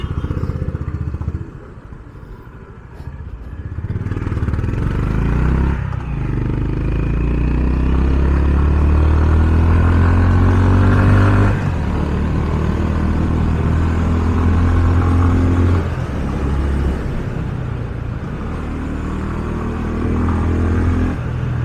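A 2022 Honda CB350RS retro motorcycle engine rumbles deeply while riding, rising and falling in pitch as it accelerates and shifts gears, loud and close.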